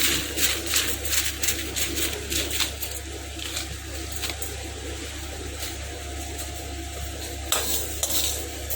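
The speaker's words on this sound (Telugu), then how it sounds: "అవిసె గింజలు కూడా ఫ్రై చేసుకోవాలి" Flax seeds fry in a pan while being stirred, giving a soft steady sizzle with rapid scraping and rattling strokes, busiest at the start and again near the end, over a constant low hum.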